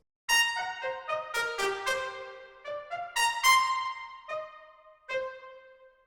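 Trumpets with woodwinds and piano play a run of short, punchy orchestral notes, each a sharp detached stab with brief ringing decay, spaced unevenly across a few seconds, close and clean with no voices.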